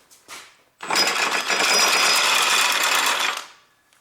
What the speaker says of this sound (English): Then I open these upper bolts.